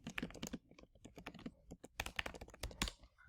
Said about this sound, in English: So I would type in the title here in the search bar